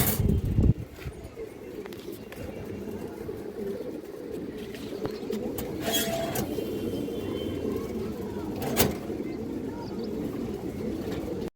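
A male pigeon coos nearby, low repeated rolling calls over a steady murmur of background noise, with a few sharper knocks and a louder burst at the start.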